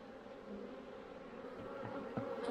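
Honey bees hum around an open hive in a faint, steady drone that holds evenly throughout with no voices.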